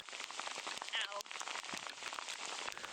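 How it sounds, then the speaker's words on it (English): Steady heavy rain following hail, hissing and pattering on surfaces along a hiking trail on the GR221, dense and continuous, with a brief higher tone and some faint voices mixed in. "the weather changed to hail and then pouring rain."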